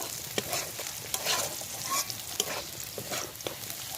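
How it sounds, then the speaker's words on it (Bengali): Green chilies being stirred in a hot frying pan for egg pasta, with a steady sizzle of frying broken by sharp scraping clicks of the utensil against the pan at irregular intervals, close and fairly quiet, no talking. "লঙ্কাটা দিয়ে আমি নাড়াচাড়া করে নিচ্ছি"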